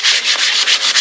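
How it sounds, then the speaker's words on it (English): Sandpaper rubs hard and loud over a radiator in fast back-and-forth strokes, a harsh rhythmic rasp right up close. "with your sandpaper, give your radiator"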